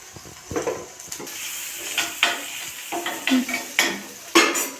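Crushed onion and green chillies frying in a pan, with a soft, steady sizzle broken by several sharp clatters of a spoon scraping and stirring against the metal.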